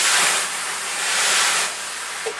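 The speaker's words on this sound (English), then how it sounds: "A little bit of steam to help us do that." A steam iron hisses steadily while fusing outer fabric to lining for a nesting gift basket, a broad close spray of steam that swells and eases over a couple of seconds with no talk.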